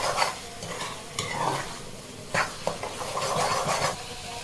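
Eggs fry in a hot pan with a steady sizzle while a spatula scrapes and stirs them in repeated close, bright strokes, with sharper knocks against the pan at intervals.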